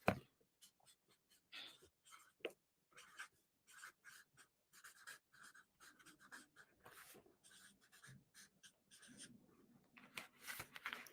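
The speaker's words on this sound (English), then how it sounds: "I'm going to write it too, kind of like it's a guide for you to write it down." A pen or marker moves across paper in a quiet, close stream of short scratching strokes and taps while someone writes guided class notes, with no talking.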